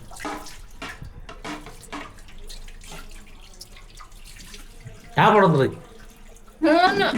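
Dishes being scrubbed and washed under a running kitchen tap, water flowing steadily at close range beneath frequent talking, with two louder bursts of water splashing near the end.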